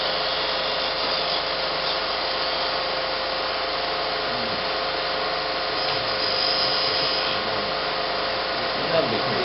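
A turning tool scrapes the inside radius of a wooden bud vase spinning on a lathe, giving a steady, loud, continuous whirring rasp close by, with no talk.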